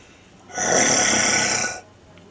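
A single drawn-out snore imitated by a voice, one loud rasping breath lasting over a second, with quiet before and after.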